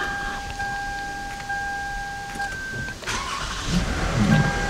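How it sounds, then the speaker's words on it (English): A booster car's engine cranking and catching during a jump-start of a dead vehicle, with a chime tone first, then a short starter whir that settles into a close, steady idle. "Let's start the booster vehicle."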